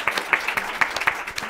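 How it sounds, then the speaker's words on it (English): A small scattering of audience claps after a panel discussion at an anniversary event, with a handful of distinct, close hand claps spaced irregularly over a short stretch and no talking. "Let's give them another round of applause."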